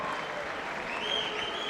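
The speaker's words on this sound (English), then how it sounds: "a round of applause for the Warriors" Applause from a crowd at a four-round boxing event after the fight, a dense wash of clapping with faint whistles over it, steady throughout.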